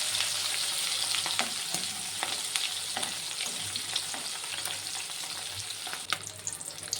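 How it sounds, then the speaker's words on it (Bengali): Two hilsa fish fry in a pan until crisp, a dense crackling sizzle close by with bursts of popping spatter and the odd scrape, steady throughout and free of voices. "মাছ দুটো কিন্তু ভাজা হয়ে গেছে, একটু কড়া করে ভেজে নিলাম।"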